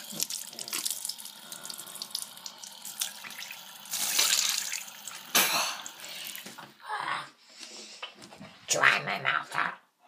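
Tap water running into a sink while someone rinses their mouth, a close steady flow with gargling and spitting bursts toward the end, plus a cough and throat clearing.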